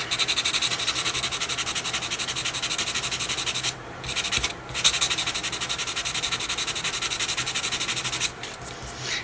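Close, continuous rubbing of sandpaper over burned birch wood to clean up pyrography marks, with brief pauses between runs of strokes; moderately quiet and steady.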